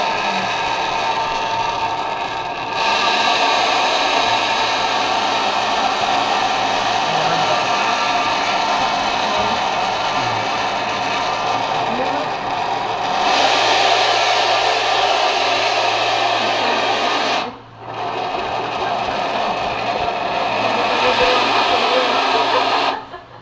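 A coffee machine runs with a loud, continuous broadband whir and hiss lasting over twenty seconds, with a brief dip near the end, while people talk faintly in the background.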